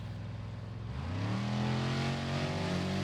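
A 12-valve Cummins diesel truck engine strains under load, dragging a 1,000-pound tire through mud at a tow test event; the engine note rises and swells after about a second, then holds a loud, steady, continuous drone.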